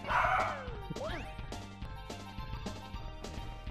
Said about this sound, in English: he's just gonna bark in the house now